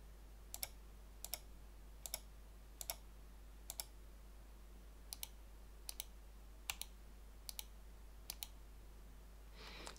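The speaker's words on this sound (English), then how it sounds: "the loudest click will be recorded as a result of this test" Crisp, evenly spaced clicks from a Logitech MX Master 3 mouse button, about a dozen sharp ticks over quiet room hum, near and fairly soft, tested for loudness.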